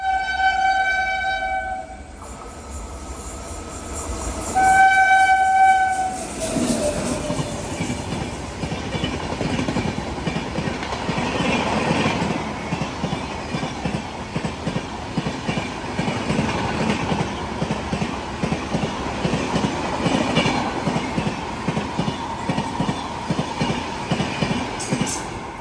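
A passenger train on the Kannur to Cheruvathur route sounds its horn, then rolls through the small Cheruvathur station with steady rhythmic clickety-clack of wheels on rail joints, loud and close for a sustained stretch.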